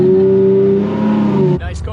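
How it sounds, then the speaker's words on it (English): A Ferrari engine revving, a loud close harmonic roar holding a steady high pitch before cutting off abruptly near the end. "It's a Ferrari."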